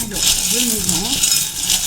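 Small metal charms shuffled by hand for a divination reading, a loud run of jingling clinks and chinks close to the listener, with a voice humming or speaking briefly under the rattle.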